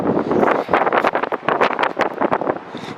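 Gusty wind buffets the microphone high on a mountain during a climb to abandoned mines, a loud, ragged rush of irregular bursts and swells filling the whole three seconds with no talking.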